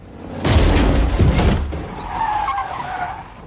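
A blue van skids hard and slams into a man in a film, a loud burst of screeching tires and impact noise that lasts about a second before fading into quieter street ambience with a faint tonal ring.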